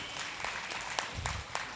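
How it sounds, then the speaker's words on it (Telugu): A room of participants at a Pyramid meditation call-service gathering gives light, scattered applause, with brisk clapping that swells briefly and is heard moderately near. "గట్టిగా చప్పట్లు కొట్టుకుందాం ఫ్రెండ్స్"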